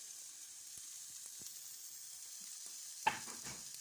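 Garlic and onion fry in olive oil in a pan with a soft, steady sizzle, punctuated by faint utensil taps and a sharper clatter near the end.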